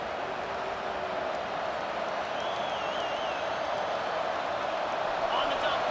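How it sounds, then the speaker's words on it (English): A steady, dense roar from a stadium crowd in EA Sports College Football 25 fills the whole stretch at even loudness, building as fans rally behind the defense, with a broadcast voice faintly underneath. "this crowd coming to life here, trying to help the defense get a stop with the offense pinned back."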